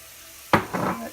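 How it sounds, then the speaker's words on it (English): Flour is stirred into a sizzling pot for chicken pot pie, a sudden close scrape and hiss that bursts in and is followed by a second, longer rustling sizzle. "Now we're gonna stir in the flour."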